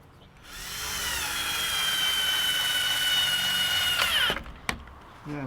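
A power drill drives Torx screws into a swing outdoors, one steady whining run of nearly four seconds that stops abruptly, followed by a brief click and a short second burst.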